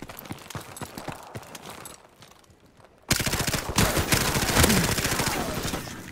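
Rapid automatic gunfire from a Call of Duty-style shooter, quieter shots at first, a short lull, then a loud, sustained burst of close, dense firing, with no voices.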